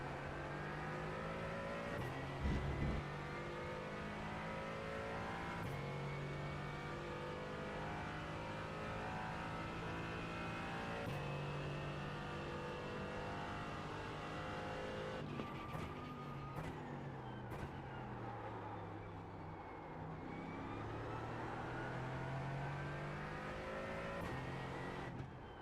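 A faster multi-class sports car in a VR racing sim at the Nürburgring Grand Prix circuit approaches and passes, its engine droning steadily and then rising through higher revs, with gear changes and pitch sweeps as it closes in.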